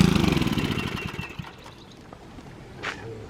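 A small gasoline pressure washer engine sputters and runs briefly with loud, uneven pulsing, then fades as it struggles to stay running, leaving quiet background.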